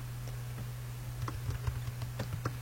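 Soft, quiet clicks of typing on a computer keyboard, an irregular patter of keystrokes that grows busier in the second half over a faint low hum.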